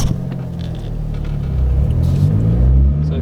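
Car from a Holden Commodore SV6 versus Ford Falcon XR6 comparison pulling away from a rolling start on a private road, a low rumbling engine note that swells and climbs in revs, close and fairly loud.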